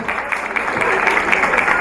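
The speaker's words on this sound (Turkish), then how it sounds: "Evet, alkış." Applause at a civil wedding ceremony at a municipal celebration, a steady dense patter of many hands clapping throughout, with a faint voice underneath.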